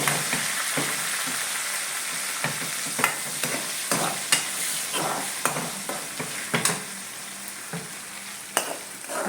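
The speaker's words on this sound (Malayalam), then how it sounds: "ഉള്ളി വെളിച്ചെണ്ണയിൽ മൂപ്പിച്ചിട്ട് അതിലേക്ക് കറിവേപ്പില" Sliced onion and curry leaves fry in hot coconut oil in a pan for crab curry, giving a steady, close sizzle broken by occasional sharp crackles and spatula scrapes.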